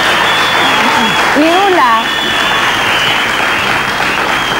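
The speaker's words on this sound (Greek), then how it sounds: "χειροκροτήστε τη. Εγώ το λέω." Studio audience applauding on a Greek television show, a dense steady wash of clapping that runs throughout while a voice speaks briefly over it.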